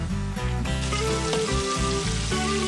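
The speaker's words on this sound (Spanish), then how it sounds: "Ahora ya solo queda en aceite bien caliente freírlos muy bien" Chicken pieces coated in spiced flour fry in very hot oil, giving a steady, loud, close crackling sizzle with no pauses and no talking.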